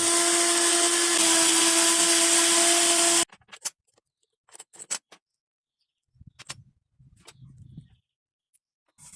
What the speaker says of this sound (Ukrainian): просвердлюємо отвір у трубі.